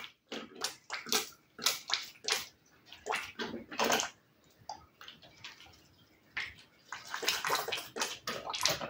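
Water is poured in uneven splashing bursts over absinthe seedling pots, with irregular trickles and pauses between pours, close by and moderately loud.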